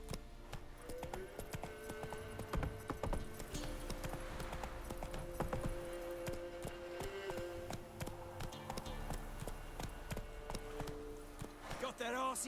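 Roach the horse gallops in The Witcher 3 video game, steady rhythmic hoofbeats thudding throughout at a moderate distance, with a voice speaking over them partway through.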